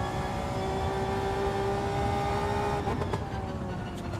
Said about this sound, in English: You do rev out this NSX